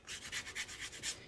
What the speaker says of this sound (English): You need a grater or a zester to zest your lemon zest into your sauce.